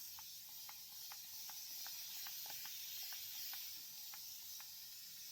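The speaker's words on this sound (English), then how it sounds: "spraying it with water" Faint, quick spritzes from a spray bottle repeat in a steady rhythm, about a dozen short bursts over a soft background hiss.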